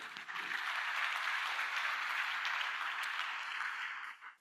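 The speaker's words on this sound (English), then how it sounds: "Can you clap for all this, please?" Dense, even applause from a large audience at the Indonesia Economic Summit 2025 fills the space without pause, a steady wash of many hands that fades out at the end, with no talking.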